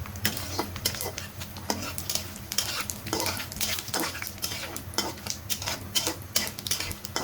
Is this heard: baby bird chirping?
no